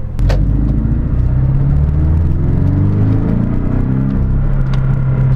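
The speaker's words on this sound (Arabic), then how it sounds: "الصوت ديالها زوين بحال 4 سيلندر" 2017 Porsche 718 Boxster with a four-cylinder engine, about 300 horsepower, a loud steady low rumble and whir of the engine under way, close and continuous with no talking.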